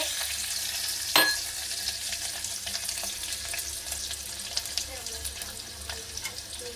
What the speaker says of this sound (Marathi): तेल उडतंय उडू दे मग आपण कढीपत्ता टाकणार ओके अजून जोरात उडतंय आपण लसूण टाकणार